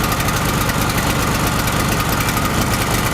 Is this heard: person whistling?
no